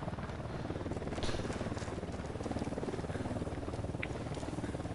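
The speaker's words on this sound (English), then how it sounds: "it's a helicopter flying over." Helicopter flying over in the video game Ghost Recon Wildlands, a steady rhythmic rotor chop at moderate distance that holds at even loudness throughout.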